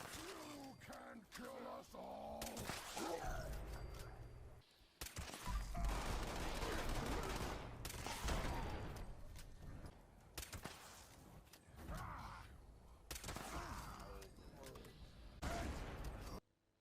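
Two-shot explosive bolt-action rifle firing in Fallout 76, loud repeated shots and blasts in bursts under ongoing game noise and a talking voice.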